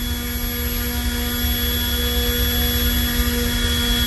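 A 3D printed Hamilton Standard 11x6 propeller spins at half throttle on a thrust test, producing a steady, loud whining drone with constant pitch and no pauses.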